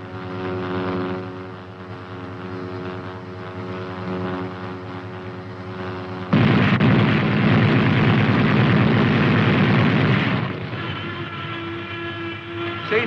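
A .50 caliber machine gun fires from an M551 Sheridan light tank, a loud sustained burst of rapid rattling roar lasting several seconds over the steady droning engine hum, which continues alone before and after.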